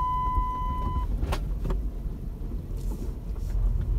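A car being driven by a learner hums along with a steady engine and road rumble, a short electronic tone sounding at the start, followed by a couple of brief knocks and a slight rise in engine noise toward the end.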